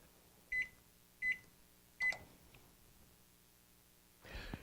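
A dorm room microwave heating macaroni gives three short sharp beeps about a second apart, followed after a pause by a soft rushing whoosh, all faint against a quiet room hum with no talk.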